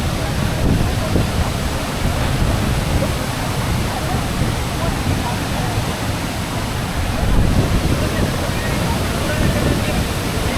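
Rushing water from Tinago Falls near Iligan City, Philippines, pours with a strong current in a loud, continuous, close roar that fills the whole stretch.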